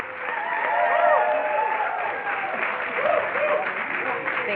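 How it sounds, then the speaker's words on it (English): Audience applause and cheering at a multicultural leadership day opening session, a dense crowd clapping that swells and then carries on at a steady level with voices mixed in. "let's give Ms. Nubia Peña a big round of applause"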